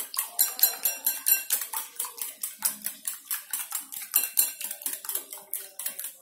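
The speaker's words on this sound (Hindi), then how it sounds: "और इसे अच्छे से मिक्स कर देंगे।" An egg and sugar mixture for chocolate cake is whisked briskly in a bowl, giving a close, steady run of rapid metallic clinks and scrapes in an even rhythm, with no one talking.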